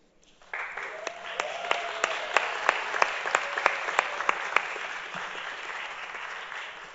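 A crowd at a city council meeting breaks into sustained applause that starts abruptly and carries on evenly for several seconds, with a few sharper claps standing out.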